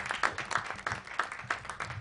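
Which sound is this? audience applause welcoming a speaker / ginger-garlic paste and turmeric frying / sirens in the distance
audience applause welcoming a speaker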